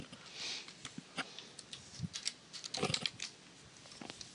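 Quiet, close clicking of keys as a caption is typed on a computer keyboard, a sparse irregular patter of taps with a few faint rustles between them.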